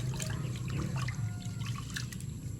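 Water trickling and splashing as rice is rinsed by hand, a close, continuous wet pour with small drips and sloshes across the whole moment.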